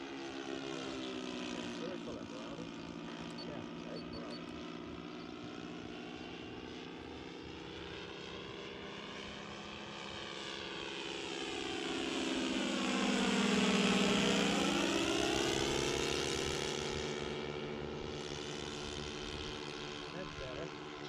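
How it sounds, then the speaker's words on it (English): Twin-motor Grumman Skyrocket model airplane flying overhead, a steady propeller drone whose pitch sweeps down and back up as it passes close and loud, then draws away while a voice speaks faintly. "Sounded like the motors took a second to sync up."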